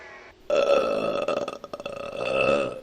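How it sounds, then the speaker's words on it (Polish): A loud, drawn-out burp made right into a microphone: one long, rumbling belch of almost three seconds, close and alone. "Brakowało beknięcia do mikrofonu."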